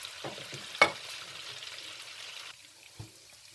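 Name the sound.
tomatoes added to sizzling tadka for mung daal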